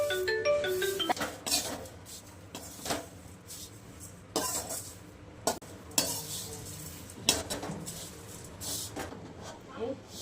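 Thin poha flakes are dry-roasted over a low flame, a spatula scraping and stirring them in a pan with soft rustling and occasional clinks against the metal. A voice talks during the opening moments.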